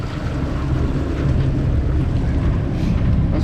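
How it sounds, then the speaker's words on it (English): Wind of about 15 to 17 knots blows around a boat under way at sea off the Florida coast. The roar is loud, steady and broadband and runs through the whole stretch with no speech. "We're going with the wind, so I'm not noticing it too much, but it's blowing like 15 to 17 knots."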